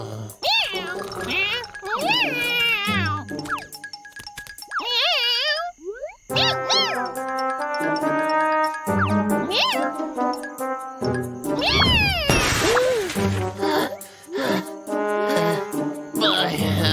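A cat meows repeatedly in a busy animated-cartoon scene, rising and falling calls mixed with voices and music, loud and upfront for most of the stretch.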